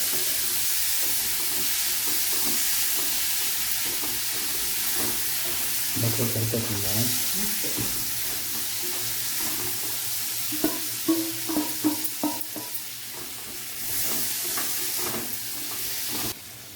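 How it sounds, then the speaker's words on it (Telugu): Paneer pieces fry in a pan for paneer butter masala, giving a steady hissing sizzle throughout with occasional stirring clatter toward the end, close and without talk. "పన్నీర్ ముక్కలు దీంట్లో వేసి ఒక 2 నిమిషాలు అలా"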